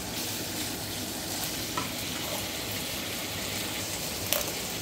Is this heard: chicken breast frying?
yes